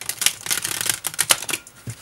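New, stiff, thick Santa Muerte tarot cards being shuffled by hand, giving a fast run of crisp, papery riffling clicks and flutters close up, with no talk.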